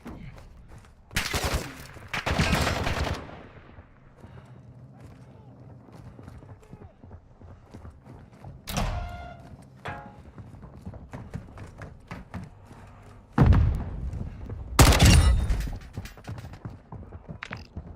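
Bot gunfire in Call of Duty DMZ, a few loud, sharp bursts of shots separated by quieter stretches of footsteps and ambient game noise, heard close and prominent.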